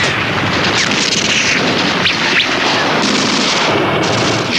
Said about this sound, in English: In the Soviet bombardment, Zhukov's 3rd Shock Army and his 47th Army erupted into the city streets.